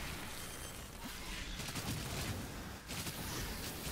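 Gunfire in the video game Outriders, heard as dense, continuous volleys of shots and impacts under a thick layer of game noise, loud and close, with no pause.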